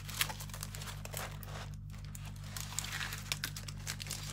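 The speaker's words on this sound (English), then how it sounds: "All this is all crumpled up, as you can see." Crumpled packaging material crinkles and rustles in irregular handling bursts while a diamond painting kit is unboxed, faint and close, without talk.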